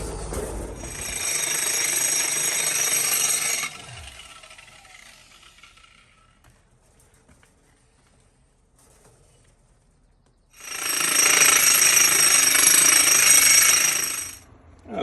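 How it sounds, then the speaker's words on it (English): A concrete grinding wheel fitted with very hard metal pads grinds a concrete surface in two loud, sustained bursts, one at the start and one near the end, separated by a long quiet gap. "Use a special tool called a concrete grinding wheel, and very hard metal pads on there."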